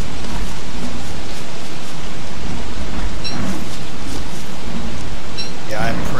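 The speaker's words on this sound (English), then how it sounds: "The gods are smiting me. They just struck me with lightning." Thunder crashing from a lightning strike in a video game, a broad rumbling roar mixed with rain-like noise that fills the scene, with a voice talking over it.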